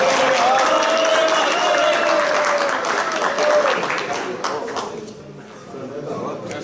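A hall audience at a hunting society's 70th anniversary celebration in Lazarevo bursts into loud, dense applause that holds steady, then thins toward the end, with voices mixed into the crowd noise.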